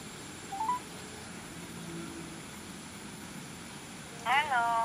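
A Kieslect Calling Watch KR smartwatch sounds a short, bright run of dialing tones near the end, after a faint earlier blip, with a low steady room hum throughout and a voice briefly audible.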